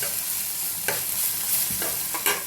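Tomato masala fries in a pan for a North Karnataka thali, a steady sizzle broken by a few sharp scrapes of stirring, close up with no voice.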